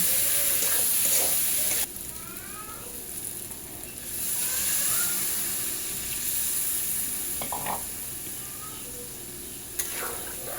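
Washed red lentils tipped into a hot pan and stirred, a steady loud sizzle with scraping stir strokes throughout, briefly quieting then rising again.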